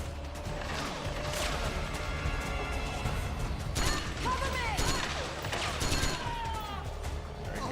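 Metal Gear Solid gunplay: a dense, continuous clatter of gunshots and mechanical clanks close up, with crashes and rattles overlapping throughout and no clear break between shots.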